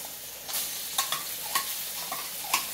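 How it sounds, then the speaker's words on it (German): Tomato paste roasting in a hot pan with sunflower oil sizzles softly while a utensil scrapes and stirs it in a rhythmic series of short strokes, close and fairly quiet, with no talking. "Wir werden auch unser Tomatenmark jetzt anrösten."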